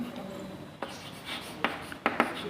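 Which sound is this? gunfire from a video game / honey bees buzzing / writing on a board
writing on a board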